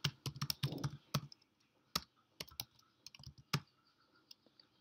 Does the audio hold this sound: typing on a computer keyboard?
yes